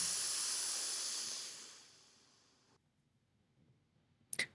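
A slow, steady inhalation through the left nostril, a soft airy hiss that fades gradually over about three seconds, followed by near silence and a brief click at the end.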